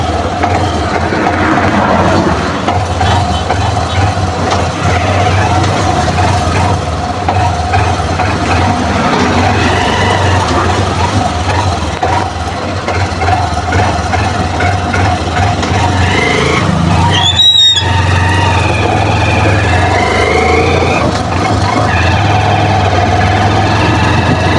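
A warmed-up engine idles steadily with a constant low rumble and vibration, loud and continuous for the whole stretch, with one brief rattling knock partway through.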